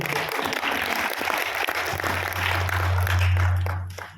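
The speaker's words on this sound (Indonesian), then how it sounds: "Tepuk tangan Bapak Ibu." Full audience applause at an Indonesian entrepreneur seminar led by a coach, steady and fairly loud throughout and fading out at the end, with a low hum running underneath.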